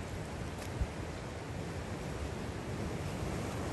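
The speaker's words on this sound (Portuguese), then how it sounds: "Tava olhando ali, ó. As ondas." Ocean surf rolls continuously onto a beach at Tijucupava in Guarujá, a steady broadband wash with faint wind and no voices.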